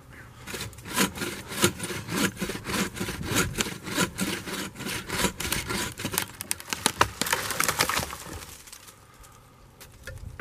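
Timber is hand sawn at a campsite, rapid rhythmic rasping strokes of a saw through wood, close and fairly loud, speeding into a dense burst before stopping, with no talk.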